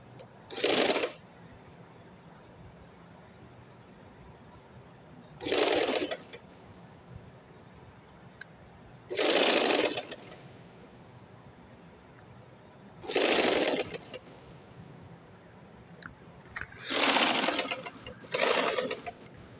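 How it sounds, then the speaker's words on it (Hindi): Sewing machine stitching an 8-year-old child's shirt and trouser set, running in five distinct bursts of about a second each, separated by quiet pauses, close and fairly loud with no talk. "ऐसे आप सिलाई मशीन से सिलाई लेंगे"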